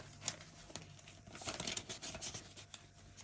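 Paper banknotes, Ukrainian hryvnias, crinkle and rustle up close as they are counted and set aside, a run of soft crackles and brisk flicks with no talking.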